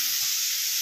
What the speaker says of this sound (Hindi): क्या मस्त तड़का लग रहा है।